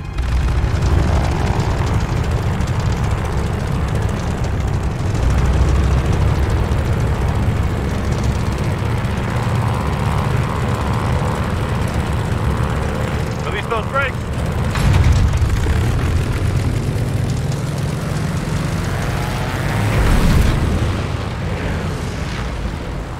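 A propeller plane throttles up to full power for takeoff in Call of Duty Vanguard at the Battle of Midway, a loud, steady engine roar with swelling booms, carried under cockpit voices chatting.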